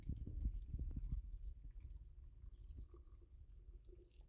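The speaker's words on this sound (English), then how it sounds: "I'm going to take the saltwater brine and pour over top." Saltwater brine poured over cucumbers in a jar for fermented pickles, a close, low splashing pour that is strongest at the start and then eases into softer trickling and drips, with no talking.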